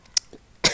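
A woman clears her throat twice in quick succession, two short, close, fairly soft rasps with a brief pause between them, heard alone with no talking.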